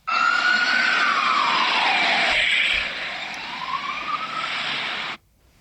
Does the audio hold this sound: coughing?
no